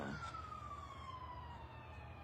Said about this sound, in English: I don't know if y'all can hear that, them sirens and shit like that.